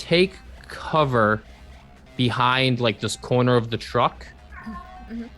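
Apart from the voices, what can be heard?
pet cat Juno meowing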